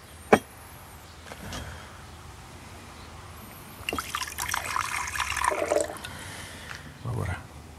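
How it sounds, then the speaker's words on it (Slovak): Water is poured into a container to make cashew nut milk, a splashing, gurgling pour rising in the middle of the stretch. Quieter room sounds and brief voice-like bits come before and after. "Nalejeme vodu."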